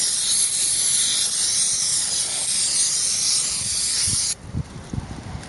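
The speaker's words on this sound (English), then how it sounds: "So you can take some brake cleaner or carb cleaner." A loud, steady aerosol spray of brake cleaner hisses for several seconds during front brake work on a Buick LeSabre, then cuts off, followed by a few soft clunks and taps.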